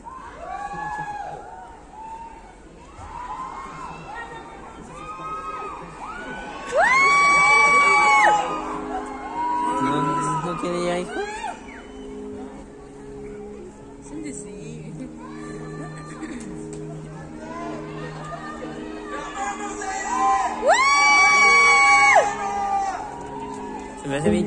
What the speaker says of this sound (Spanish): Chistoso que tú solamente gritas.